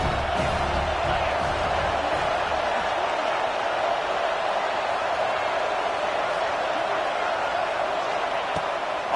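A stadium crowd at an LSU versus Alabama football game keeps up a steady, loud roar with no break, heard from within the stands.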